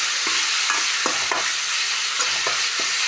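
Drumstick leaves fry in a pan while being stirred, giving a constant loud sizzle broken by repeated scraping strokes of the spoon at an uneven pace, with no talking.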